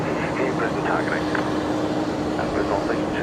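Aircraft engines roar steadily at Brisbane Airport, a constant loud rumble with a faint whine and a brief voice over it.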